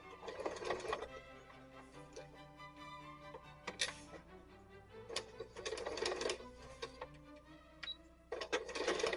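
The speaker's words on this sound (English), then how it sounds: "Let's get a stitch on it to keep it closed." A sewing machine stitches a leg strap pouch in short bursts of rapid mechanical clatter, separated by pauses and soft handling noises, close but fairly quiet.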